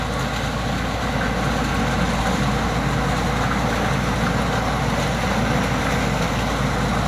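A Cummins-powered corn harvester engine runs steadily at about 1,000 rpm in a field, a continuous loud low rumble with no talk over it.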